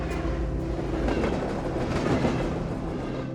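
A Trans-Siberian Railway train rolls through Vladivostok with a steady, loud rumble and rhythmic clickety-clack of wheels on rails, with no voices.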